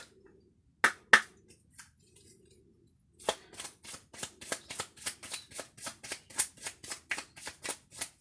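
Oracle cards being shuffled by hand, a few scattered soft snaps and slides at first, then a long steady run of rhythmic riffling flicks, close and crisp with no talking.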